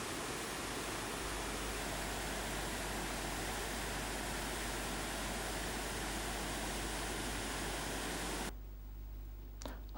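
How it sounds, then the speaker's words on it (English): Waterfall at the edge of Lom, Norway: a dense, steady roar of falling water that fills the scene without pause, then cuts out near the end to quiet background. "There's an impressive waterfall right on the edge of town."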